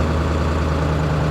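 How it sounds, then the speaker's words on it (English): A Ford 7.3 Powerstroke diesel engine runs at high idle around 1100 RPM, giving a steady, loud, close-up low rumble with an even hum throughout and no voices. "High idle, right around 1100 RPMs, which is what it's showing right there"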